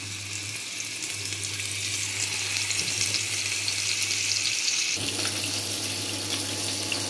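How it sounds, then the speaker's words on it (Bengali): Fish sizzles in hot oil in a home kitchen, a steady hissing fry lasting throughout with a low electrical hum underneath and a brief stir or shift in the middle. "তো মাছটা হচ্ছে ফ্রাই করে নেব।"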